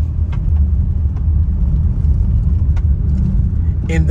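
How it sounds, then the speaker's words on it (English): A 2024 Mercedes-Benz GLS 450 hybrid SUV rolls along a gravel road, a steady, loud low rumble of tires and cabin noise heard from inside, with faint clicks and a brief sound at the very end. "Right now we're on gravel road, so yeah, we're just gonna drive for a little bit and see how well she does on the gravel"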